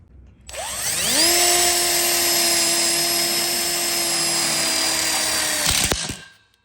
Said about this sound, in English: We'll go ahead and screw it in now.